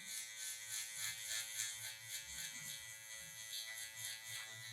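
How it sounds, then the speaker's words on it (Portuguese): An electric hair finishing trimmer clips long hair during a taper fade, giving a continuous, fairly faint buzzing hum with slight pulsing. "Para finalizar, vou usar somente a máquina de acabamento."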